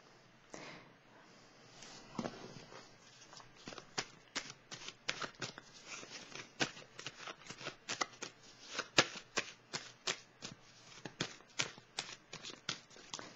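Tarot cards shuffled by hand in a quick run of crisp riffling and flicking bursts that build in density, close and fairly quiet, with no talking.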